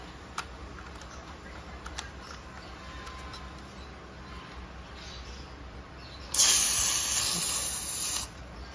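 CO2 cartridge being screwed into an Umarex Beretta Elite 2 non-blowback airgun, a loud sharp hiss of escaping gas bursting out for about two seconds after quiet handling clicks and taps.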